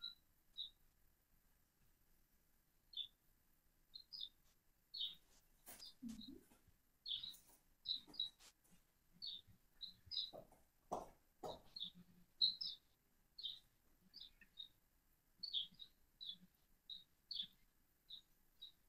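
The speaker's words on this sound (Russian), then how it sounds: "Это птички или сверчок на улице? Это птички." Small birds chirp outdoors in short, high, repeated calls that come every second or so through the whole stretch, with a few soft knocks and rustles underneath.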